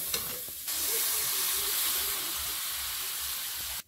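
Water splashes into a pan of sizzling chicken biryani masala, which already holds soaked rice and cumin powder. A sharp burst gives way to a loud, steady hiss and steam that lasts several seconds and then cuts off.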